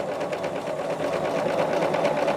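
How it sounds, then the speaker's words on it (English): A sewing machine stitches fabric strips for a quilt sampler block, running steadily and loudly up close with a fast, even mechanical whir and rapid needle clatter throughout. "it's sewing pretty well."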